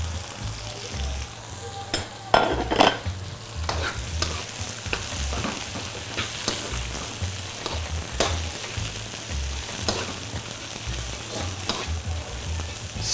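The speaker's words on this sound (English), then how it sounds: "And now I'm going to add my eggplants," Eggplant frying and being stirred in a hot pan while making vegetable lo mein, with a steady sizzle and repeated scraping strokes throughout, close and moderately loud, no talking.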